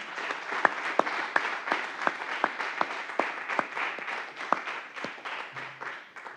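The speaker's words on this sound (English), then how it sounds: "Another applause for that." Applause at a doctoral thesis defence in sport science after the PhD is awarded, a modest group clapping with distinct individual claps standing out, fairly close and gradually thinning.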